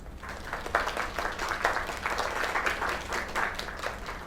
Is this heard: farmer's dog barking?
no